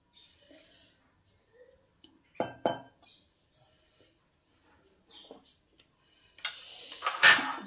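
A metal spoon clinks against a glass or bowl while honey is stirred into a mixture, with a few sharp taps early on and a louder, denser burst of clinking and scraping near the end.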